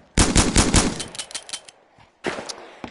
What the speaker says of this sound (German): Das ist meine Waffe. Meine Schrotflinte sogar.